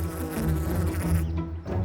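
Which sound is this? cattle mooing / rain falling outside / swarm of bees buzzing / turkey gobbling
swarm of bees buzzing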